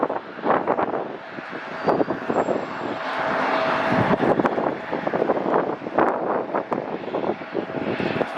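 Jet airliner at Atlanta's ATL airport, its engines roaring steadily and loudly for several seconds under gusting wind buffeting the microphone, with no talking.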